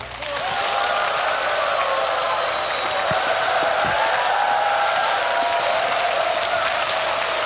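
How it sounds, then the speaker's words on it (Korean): A lecture audience applauds to welcome a journalist to the stage, with dense, sustained clapping from a sizable crowd that fills the hall evenly at a loud, steady level. "여러분 유인경 기자님 큰 박수로 맞아주세요"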